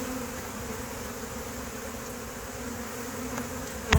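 Honey bees buzz in a steady, dense hum from a colony that seems queenless and trying to re-queen, with swarm cells present; the close, continuous drone holds evenly throughout, with one brief louder knock near the end.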